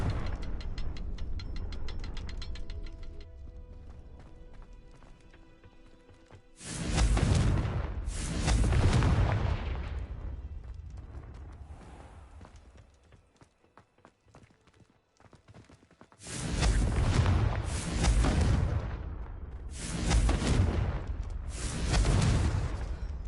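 Confringo blasting spells in Hogwarts Legacy burst as loud, booming explosions in two clusters, each a rapid series of heavy blasts, separated by quieter ambient game sound.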